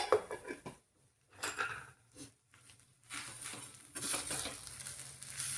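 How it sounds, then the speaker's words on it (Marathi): Boiled potatoes and wet masala are stirred and sautéed in a pan for a Nashik-style kat vada rassa: soft, intermittent scraping and shuffling with a faint sizzle, quiet and close, in short bursts separated by pauses. "आणि आता छान अगदी 2च मिनिटं आपल्याला परतायचं आहे, खूप वेळ नाही परतायचं आहे"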